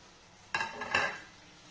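Chicken being stirred in a pot for Filipino chicken adobo, two quick faint scraping clatters of a utensil against the pot, isolated against a quiet kitchen background.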